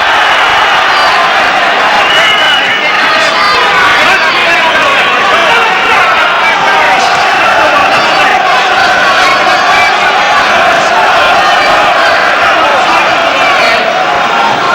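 Boxing crowd at a Mike McCallum versus Michael Watson fight roaring and cheering loudly and continuously, a dense wall of voices with a commentator talking over it.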